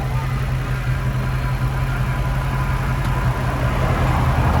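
Low, steady engine rumble from a Mark 3 Toyota Supra idling after repeated stalling, loud and close, holding an even drone throughout with no talking.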